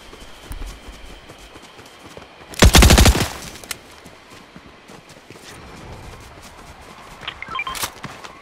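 A short, loud burst of rapid SMG fire in Fortnite, about half a second of fast shots up close, followed by quieter scattered clatter and a few faint distant pops over low background noise.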